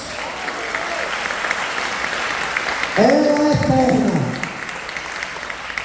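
A church congregation bursts into applause partway through, a loud sustained wash of clapping rising under a preacher's amplified voice and sung tones before it fades.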